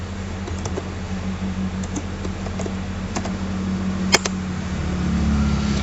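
Keys clack on a computer keyboard while entering an Excel formula, a loose run of single taps and a few quick bursts over a constant low fan-like hum.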